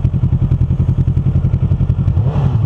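Kawasaki Ninja 650R motorcycle engine idling close by in a mountain setting, a loud, steady pulsing thrum with regular rhythmic beats throughout, no talk over it.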